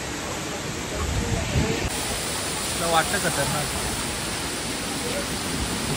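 A waterfall near a hillside temple pours in a constant broad rush of water that fills the whole scene, with people talking over it.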